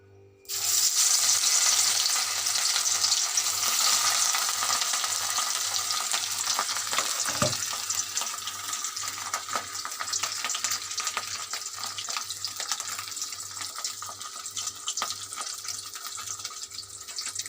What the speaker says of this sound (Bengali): মাছটা আমি ভেজে নেব মাছগুলো সব ভেজে নেবো